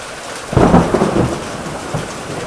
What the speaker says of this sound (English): So I got caught in this a few minutes ago, and now it's hailing.